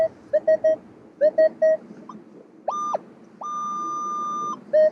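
A metal detector set to high sensitivity chatters in an old city park, giving clusters of short electronic beeps and a few longer steady tones, close and clear with no talking.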